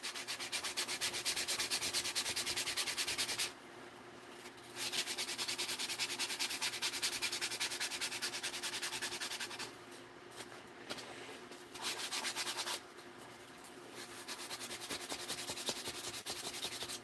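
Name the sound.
sanding with 400 grit sandpaper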